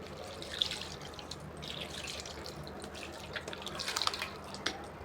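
A cleaned gas stove burner rinsed under a running kitchen tap, with steady splashing water and scattered drips and clinks close by, continuous throughout.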